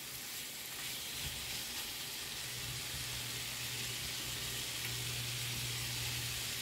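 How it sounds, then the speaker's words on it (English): Smoked turkey sausage sautéing in a pan for yaka mein soup, giving a continuous low hiss and gentle sizzle, fairly quiet and steady, with no talking. "So I'm just going to let this saute a little bit more."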